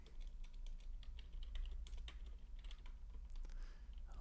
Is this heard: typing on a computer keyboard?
yes